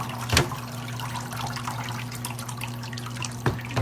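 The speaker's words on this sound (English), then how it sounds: "watch out, Miss Josie, this one's leaking." Water dripping and trickling from a leaking bucket during rain, with a steady wet patter throughout and two louder splashing drips near the start and end, under a low steady hum.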